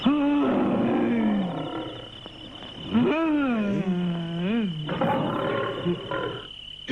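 A cartoon character's voice imitates a lion roar in an anime, giving long, wavering growls with sweeping pitch, loud and close, in several drawn-out bursts, alone with no other talk.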